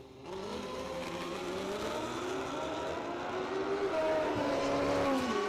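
Two old-school drag racing motorcycles scream down the strip at the ManCup World Finals, their engines rising steadily in pitch as they accelerate, loud and continuous from start to finish.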